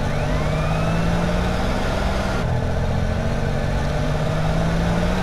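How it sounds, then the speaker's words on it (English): Police sirens wail within GTA San Andreas, a steady rising and falling tone layered over a loud continuous engine-like rumble, with no talking. "I keep hearing sirens, but I'm assuming they're like above ground"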